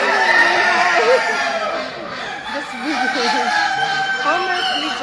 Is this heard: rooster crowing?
yes